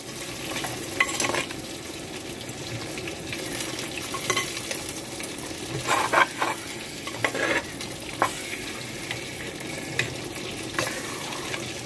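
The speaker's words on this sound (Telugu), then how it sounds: "మసాలాతో పాటు ముక్కలు వేగుతున్నాయండి." Fish pieces (ఎర్రమీను) fry in masala inside a clay pot, giving a steady low sizzle with scattered scraping stir strokes, some sharper clicks around the middle, moderately close and without speech.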